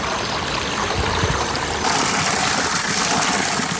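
Spring water flows from a hillside spout in a Pahadi mountain village, a steady dense splashing rush, loud and close, continuous throughout with no voices.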